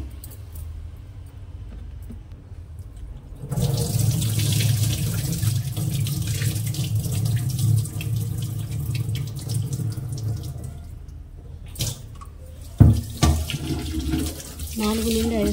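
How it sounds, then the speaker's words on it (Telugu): Finger millet being washed with water in a clay pot: a steady splashing, sloshing wash begins a few seconds in and runs close and fairly loud, with a couple of sharp knocks near the end. "ఇలా మట్టి పాత్రలో అయితే వేసి వాటర్ వేసి అయితే బాగా అయితే క్లీన్ చేసుకుంటున్నాను."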